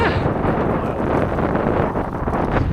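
Strong wind on the Camotes Islands, Philippines, buffets the microphone in a steady, loud roar that never lets up.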